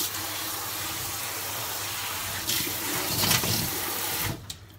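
Water runs from a tap onto a surface to wet it before scrubbing, a steady close hiss of flow that grows briefly louder and splashier before cutting off near the end.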